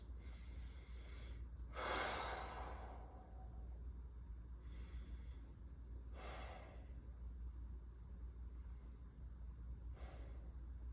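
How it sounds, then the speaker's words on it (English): Slow deep breaths, three long inhales spaced a few seconds apart, soft and close over a steady low background hum with no talking. "we'll start with just some deep breaths"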